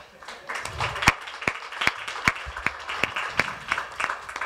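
An audience at a talent show audition claps in a steady, rhythmic beat, sharp regular claps that keep time beneath a singing voice.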